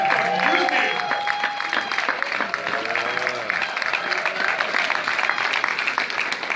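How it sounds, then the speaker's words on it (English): Applause for helpers breaks out at a Chicago tribute to Mayor Harold Washington. It is loud and steady for over six seconds, with cheering voices and some talk running through it. "stand up so we can give you a round of applause and show you how much we appreciate what you did"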